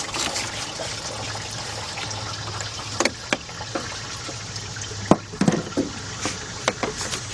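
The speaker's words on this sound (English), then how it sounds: "Make sure our pan's catching that antifreeze." Antifreeze trickles and drips from the loosened thermostat housing of a 2007 Chevy Impala into a drain pan, a steady faint dribble with scattered brief clinks and splashes, no talking.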